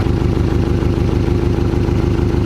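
A 2.5-litre four-cylinder Porsche engine idles steadily up close, a low rhythmic chug with a light tappety ticking clatter running through it, no voices.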